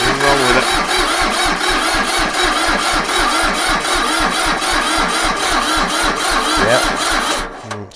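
Small Iseki diesel tractor engine cranking over and over, a loud, close starter churning with a rhythmic pulsing beat for several seconds before cutting off abruptly.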